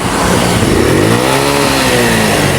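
A motorcycle engine revs hard and stays at high RPM because of a throttle that snaps back, giving a loud, steady, close mechanical whine that rises and falls slightly.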